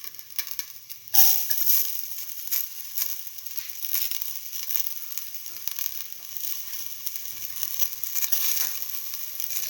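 Fresh ginger hits a hot pan for a potato and split mung bean stew, bursting into a sudden sizzle that settles into a steady, close crackle with faint scraping and stirring.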